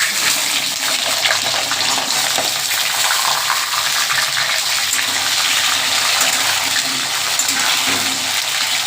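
Pumpkin and potato pieces fry in hot oil with a dense, loud, unbroken crackling hiss that holds even from start to finish, up close with no voices over it.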